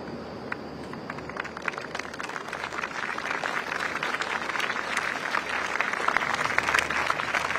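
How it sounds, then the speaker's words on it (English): Steady applause from a large crowd at Singapore's 2024 prime ministerial swearing-in ceremony, many hands clapping continuously at a moderate distance, building slightly in density. "A round of applause now"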